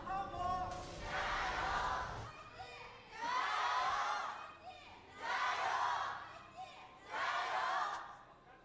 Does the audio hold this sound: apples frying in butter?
no